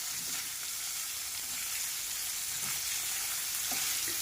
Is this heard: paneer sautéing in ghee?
yes